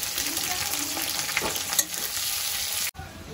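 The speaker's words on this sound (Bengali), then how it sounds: "তেলটা বেশ ভালোই গরম হয়ে গেছে, গরম মশলাগুলো সাঁতলানো হয়ে গেছে" Whole garam masala spices, a large bay leaf and chopped onion fry in very hot oil for doi chicken, a dense continuous sizzle with faint stirring scrapes, close and loud, cutting off abruptly near the end.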